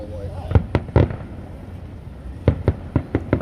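Fireworks pop and crackle near an apartment in Indiana, a cluster of sharp bangs, a lull, then a rapid string of reports, moderately distant with quiet voices talking in between.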